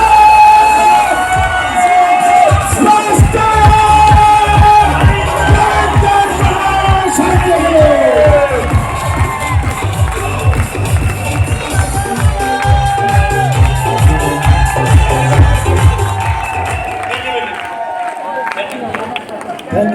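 A crowd at a company's 22nd-anniversary celebration in India cheers and claps loudly and continuously, with shouts and whoops, after being called to give a standing ovation; the sound swells close and dense, then fades near the end.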